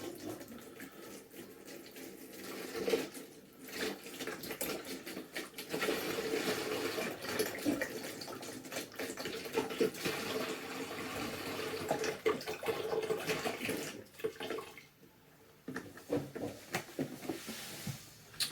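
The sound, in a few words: apple juice poured into a glass demijohn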